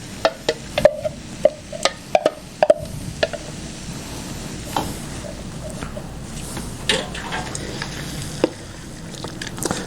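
Crushed tomato sizzles in a pot while cooking, with a series of sharp stirring clacks and scrapes up front, then a quieter steady simmer with occasional knocks.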